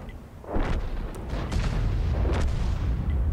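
Booming cannon shots with deep rumbling echoes, two or three heavy blasts over a steady low background drone, tank fire in World of Tanks from an AMX 13 90.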